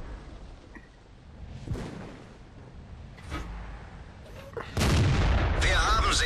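Several heavy booming tank cannon shots in World of Tanks, from a T25 AT tank destroyer, ring out at intervals, ending in a loud sustained roar of fire and rumbling, with mechanical noise between blasts.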